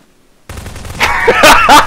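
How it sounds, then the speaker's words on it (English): Rapid gunfire bursts in the video game Prop Hunt, loud and close, several sharp cracks clustered in the final second after a short silence. "I heard bullets."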